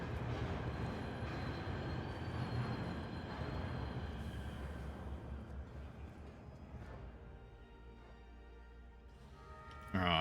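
A train in Assassin's Creed Valhalla gives a steady, low rumble that runs continuously and fairly loud, easing off slightly toward the end before a brief louder burst.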